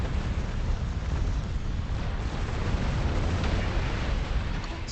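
A video game explosion in a Star Trek Online space battle, heard as a sustained, dense rumbling roar with crackling debris texture, steady and loud throughout without speech.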